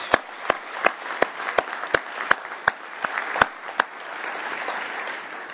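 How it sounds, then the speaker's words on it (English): Sparse applause at a conference general session honoring the organizing committees, with a dozen or so loud distinct claps ringing out over a softer patter of scattered hands that fades toward the end. "Let's give them all a round of applause."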